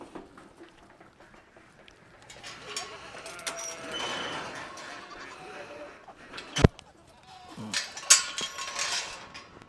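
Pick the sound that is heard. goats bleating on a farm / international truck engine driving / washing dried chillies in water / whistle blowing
goats bleating on a farm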